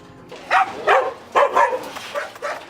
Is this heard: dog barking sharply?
yes